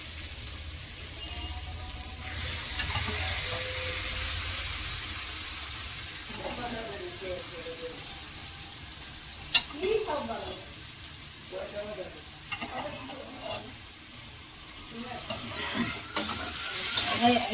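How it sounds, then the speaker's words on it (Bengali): Chana dal tipped into fried masala in a kadai and stirred, a steady sizzle with scraping spoon strokes and knocks, while someone talks over the cooking. "এইবার আমি ছোলার ডালগুলো দিয়ে দেবো।"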